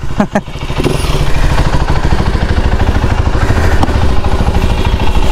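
A KTM Duke 390 engine runs close and loud with a rough, steady mid-pitched drone and clattering pulses across the whole clip. The faint whistle riding on top is hard to pick out, and there is no speech.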